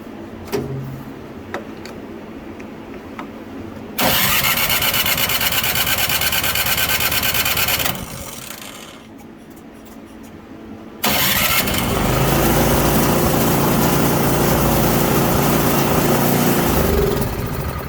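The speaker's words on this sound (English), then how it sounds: "this one I believe says it starts but it surges" Craftsman 26-inch snow blower engine with a suspected carburetor fault, cranked and starting, running loudly, dropping off, then catching again and running on unevenly, close with no talk.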